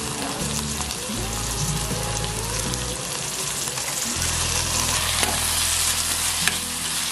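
Vegetables fry loudly in a pan beside mung beans in an Indian home kitchen, a dense steady sizzle with stirring scrapes, a strong low hum running underneath throughout.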